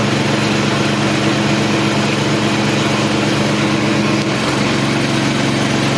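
A homemade generator engine drones under electrical load, a loud, continuous, even hum with a slight shift in pitch near the end.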